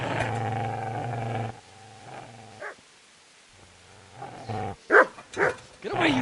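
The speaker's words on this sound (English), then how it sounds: "Get away, you mutt!" A dog barks in the medieval video game Kingdom Come: Deliverance II, several loud, close yelps and barks toward the end after a stretch of low droning ambience.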